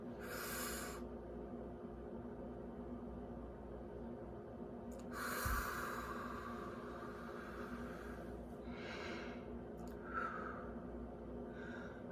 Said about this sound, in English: we're going to take a moment to breathe in and breathe out